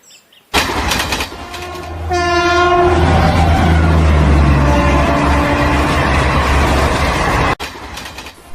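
A passenger train rumbles loudly past, close by, and its horn blasts a long sustained note partway through over the steady roar of the wheels and cars before it cuts off abruptly.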